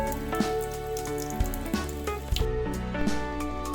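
Water runs and splashes close by with irregular patters and drips as spinach leaves are rinsed under a tap.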